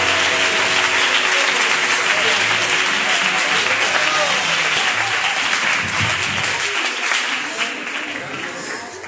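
Loud applause from a church congregation at a Gitano evangelical service, dense steady clapping with cheering that tapers off slightly toward the end, a voice briefly heard over it.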